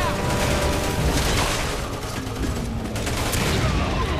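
A dense, roaring wash of combat noise in the video game Resident Evil 6, loud and sustained throughout, with a grenade blast blended into continuous booming and gunfire.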